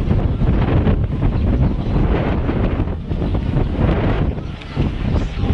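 Strong gusts buffet the microphone outdoors at a beach resort in Marsa Alam, Egypt, producing a continuous rumbling, fluttering roar with no other clear sounds.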